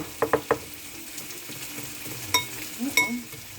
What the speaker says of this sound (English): Oh, that bacon smells pretty good.